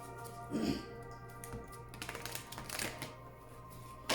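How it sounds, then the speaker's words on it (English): Oracle cards are shuffled by hand in a quiet room, with a series of soft, irregular riffling taps and flutters over several seconds. "Please think of your question as I shuffle the cards."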